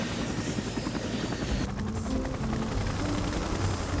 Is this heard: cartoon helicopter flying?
yes